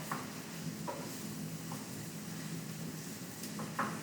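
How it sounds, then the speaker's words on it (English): Soft, steady sizzling of minced meat browning in a pan for cottage pie, with occasional scraping stirs and light clinks, low and continuous. "Now I'm going to add the meat. And then I'm going to brown that off."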